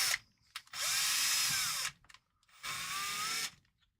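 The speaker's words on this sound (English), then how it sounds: "let me put these 2 screws in" A power drill drives screws in two close, steady whirring bursts separated by a short pause, each about a second long, with no talk over them.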